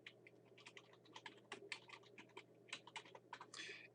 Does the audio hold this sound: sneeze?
no